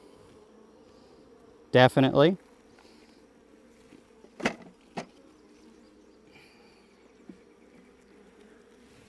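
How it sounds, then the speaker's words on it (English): Honeybees buzz steadily around an opened hive box during a hive inspection, a low continuous hum with a few sharp handling knocks and bumps over it and a brief spoken word. "what we can do is shake those bees off a little bit"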